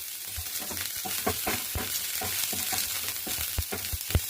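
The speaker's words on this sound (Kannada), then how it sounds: "ಕ್ಯಾಪ್ಸಿಕಮ್ ಹಾಕ್ಕೊಳ್ತಾ ಇದ್ದೀನಿ." Sliced capsicum fries in a little oil in a pan for a paneer roll, giving a steady close sizzle broken by regular scrapes and knocks of stirring.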